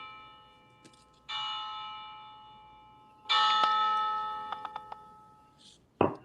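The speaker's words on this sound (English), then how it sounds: "Like a chime. From church." A church-style bell chime sound effect rings out in two long, sustained, resonant strikes that slowly decay. A few short ticking clicks follow, then a sharp knock right at the end.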